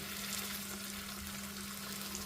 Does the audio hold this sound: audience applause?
no